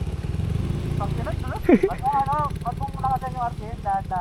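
A motorcycle engine runs steadily at idle on a farm campsite during a motocamping trip, its low throb continuing beneath people talking near the microphone.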